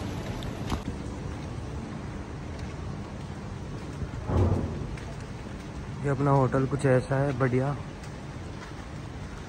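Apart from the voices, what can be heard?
rain falling at a Goa hotel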